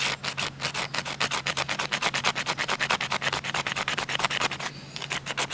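A magnesium block is scraped to start a campfire, producing a fast, steady series of rasping strokes, close and alone, with a brief pause near the end before the scraping resumes.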